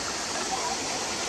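Turgut Waterfall near Marmaris pours in a steady, dense rush of broadband water noise, close and continuous throughout with no voices over it.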